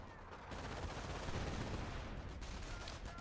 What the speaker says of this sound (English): Sniper's just firing away at the ranges.